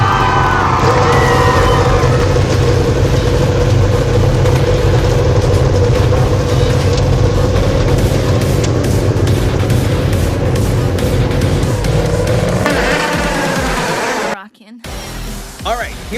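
Race car engines at Bristol Motor Speedway fire up and rev together in a loud, dense roar that holds steady for most of the stretch before cutting off abruptly near the end, with a public-address voice talking over it.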